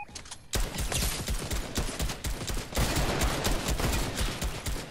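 Gunfire in the Fortnite video game: a dense, loud stream of rapid automatic shots that rattles on almost without pause, punctuated by sharper bursts, with no talking over it.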